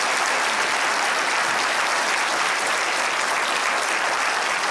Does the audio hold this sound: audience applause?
yes